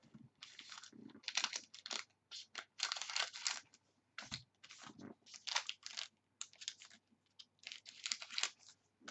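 Something in a trading card box break is handled close up with repeated short crinkling, crunching bursts, like cellophane or packaging being worked open, irregular and fairly quiet with brief pauses.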